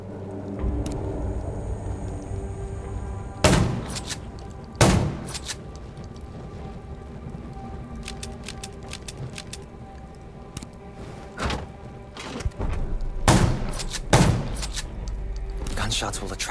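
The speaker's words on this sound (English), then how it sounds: "gunshots will attract more zombies" Scattered gunshots from the zombie video game Undawn crack out as several sharp, loud bursts at irregular intervals, heard over a steady background hum and rumble.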